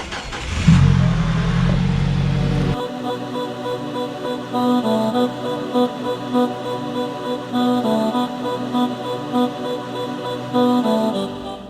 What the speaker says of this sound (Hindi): ये हमारी गाड़ी है।